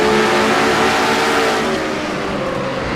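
A race car engine roars in a NASCAR-style video game at the First Union 400, a loud, sustained high-revving drone that holds steady and then eases slightly through the turns.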